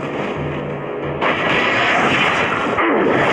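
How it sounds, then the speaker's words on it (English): A turret is destroyed in the Mobile Legends video game: a dense, loud rumbling blast of artillery-like booms and crackling debris fills the scene, swelling midway and continuing without pause. "Our turret has been destroyed."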